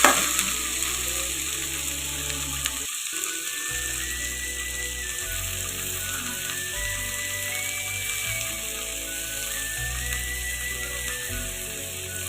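Tomato and mint sautéing in oil in a pan for chutney, a steady soft sizzle with occasional stirring scrapes, a faint tonal hum underneath and no talking.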